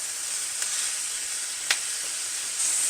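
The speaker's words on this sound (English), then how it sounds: "Just making sure to toss this around pretty often so that my peppers and onions are on the bottom of the skillet so they get cooked as well" Diced red peppers and onions sizzle in a skillet with a steady bright hiss, broken by a couple of quick crackles and a louder burst of sizzle at the end.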